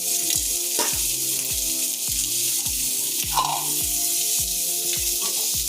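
Ginger, garlic and onion fry in hot oil with a dense, steady crackling sizzle heard up close, joined by a regular pulsing tonal pattern underneath and occasional louder spatters.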